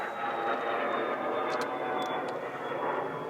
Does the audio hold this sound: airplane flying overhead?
yes